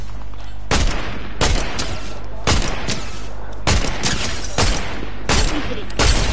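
Loud, sharp gunshots crack out one at a time in Fortnite, about every half second to a second, each with a short tail of echo over a steady low game drone.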